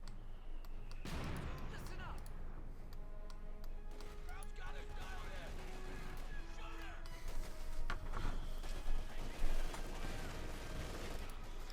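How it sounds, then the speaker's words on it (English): Machine gun fire in a Company of Heroes 2 battle, Wehrmacht against US forces, with distant rattling bursts and scattered shots under steady battle noise while a commentator talks throughout. "Machine guns trying to make it harder to flank the other one."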